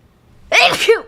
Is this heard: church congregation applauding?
no